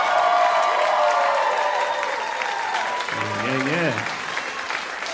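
Audience applauds and cheers for the musicians at a NoteWorthy live performance, steady dense clapping throughout, with a host's voice speaking briefly over it.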